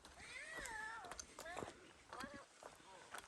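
A person mimics cat meows and yowls out on a North Country Trail thru-hike, several drawn-out, wavering calls with short breaks, close and fairly loud, with other voices nearby.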